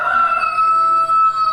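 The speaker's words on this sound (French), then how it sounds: "Le soleil se lève au chant du coq." A rooster crows in a re-created countryside village scene from old-time Vendée, its long sustained call ringing loud and steady for over a second with faint background ambience.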